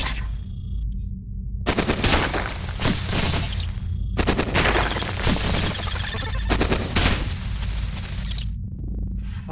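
Dense bursts of rapid gunfire and heavy launcher blasts from the Cogmind robot combat game, loud and nearly continuous with brief gaps between volleys.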